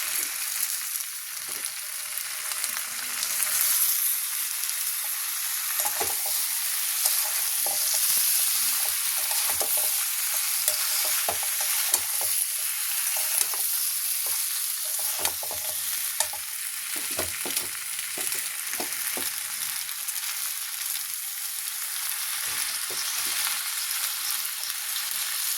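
Fried Gobindobhog rice being stirred into a fish head muri ghonto, with a steady sizzle under repeated scraping strokes of a spatula in the pan, close and continuous with no talk.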